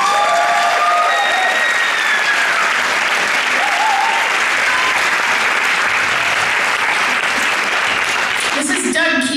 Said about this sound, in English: Oh, you can clap more than that.